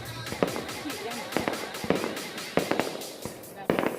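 New Year's Eve fireworks go off in the highlands of Hoang Su Phi, Ha Giang, a rapid series of sharp bangs and crackles over a continuous hiss of crowd noise and nearby voices.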